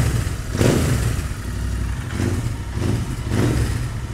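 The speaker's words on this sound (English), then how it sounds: "Now I'm gonna rev it up." A Royal Enfield Interceptor 650 fitted with a short Powerage slip-on exhaust revs in a basement, its engine swelling and easing in repeated waves over a steady, close-up rumble.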